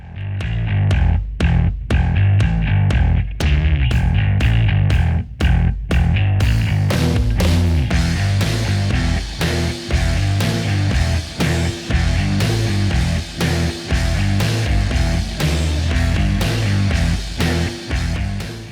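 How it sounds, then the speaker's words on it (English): A hammer strikes a sterling silver sheet in a fast, steady series of sharp ringing taps that continue for the whole stretch, close and loud. "I'm going to continue hammering along that crease to make that curve a little bit more pronounced"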